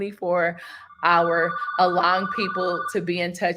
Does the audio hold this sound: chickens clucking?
no